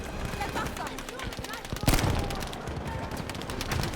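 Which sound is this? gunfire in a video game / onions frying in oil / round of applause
gunfire in a video game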